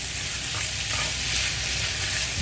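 Food being stirred quickly in a hot frying pan, a dense continuous sizzle with light scraping movement, close and fairly loud, no voices.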